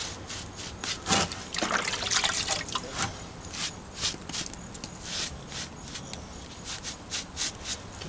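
Wet sponge wiped and dragged across stone veneer during installation cleanup, a series of close, soft wet scrubbing strokes with dripping, repeated in an uneven rhythm.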